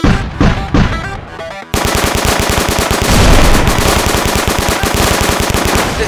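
A few scattered shots open the sequence, then sustained rapid automatic gunfire rattles on loud and close for several seconds.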